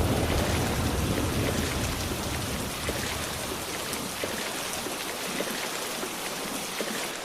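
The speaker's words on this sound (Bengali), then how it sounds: "দেখছিস না বৃষ্টির কি তেজ?" Heavy monsoon rain falls steadily around a flooding pond, a dense and continuous hiss that is loudest at first and eases slightly, with scattered distinct drops and no voices.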